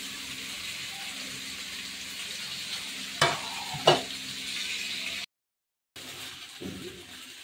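Raw banana and potato frying with a little salt in a pan, a steady soft sizzle with two brief sharp clinks of stirring, then a short silent gap before the frying resumes.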